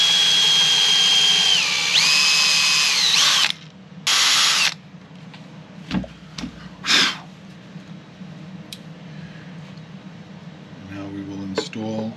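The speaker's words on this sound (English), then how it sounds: "I'm going to open those holes up with the correct size bit." A power drill opens up the tremolo screw holes in a Strat-style guitar body during a restoration. It gives a whirring run that rises and falls, then a few short bursts and clicks, with quiet talk in between.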